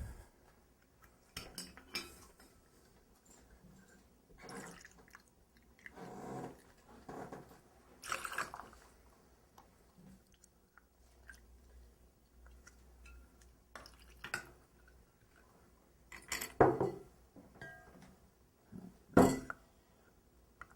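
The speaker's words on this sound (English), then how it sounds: "Again, we ice up our shaker." Ice cubes dropped into a metal cocktail shaker while mixing espresso martinis, a few irregular clinks and rattles with soft clatters, fairly quiet and spread out, no talking.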